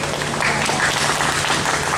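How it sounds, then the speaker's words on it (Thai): Audience applause after a Thai classical dance performance by a college of dramatic arts, a dense, even wash of clapping from a crowd, steady and fairly loud throughout. "ขอเสียงปรบมือสักครั้งนะครับ"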